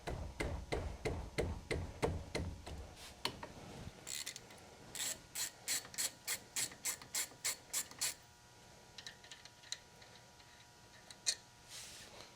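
A wrench works on 19mm caliper bolts on a Chevy Silverado, first with a run of quick close clicks, then a slower, even series of sharp ratcheting ticks, and finally a few scattered clicks.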